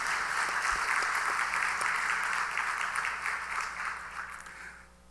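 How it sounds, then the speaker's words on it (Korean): A church congregation in Haeundae gives a pastor sustained, even applause that rises quickly, holds steady, then tapers off over the last couple of seconds. "우리 인사하실 때 박수로 환영하시겠습니다"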